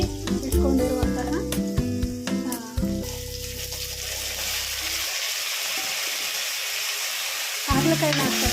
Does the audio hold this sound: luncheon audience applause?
no